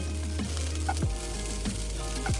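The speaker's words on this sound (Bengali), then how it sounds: "এই মুহূর্তে আমি রসুন কুচিগুলো দিয়ে দিচ্ছি" Chopped garlic sizzles steadily in hot mustard oil for a cabbage bhorta, a close, continuous crackling hiss with a few soft stirring scrapes and no voices.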